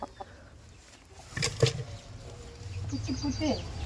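A laying hen in a covered basket gives a few soft clucks near the end, faint beneath rustling and handling noise in a quiet rural home.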